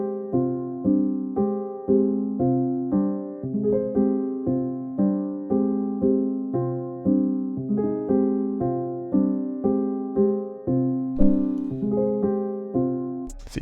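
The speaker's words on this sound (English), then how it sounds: "So I got this soft piano pulled up, and I laid down this pattern, this MIDI for the main piano." Soft piano chords from a MIDI pattern built in FL Studio, stacked and repeating in an even pulse of sustained strikes that swell and decay, played alone and clearly with no talking.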